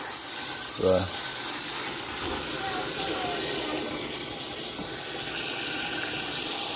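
Water pours steadily from a tap into a jar of oats being soaked for mushroom grain, a continuous gushing fill with a faint voice briefly at the start.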